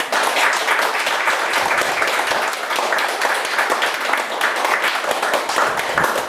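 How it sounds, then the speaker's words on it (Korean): An audience claps together in sustained, lively applause after a lecture, dense and loud for the whole stretch with no talking over it. "다시 한번 감사의 박수를 드리겠습니다."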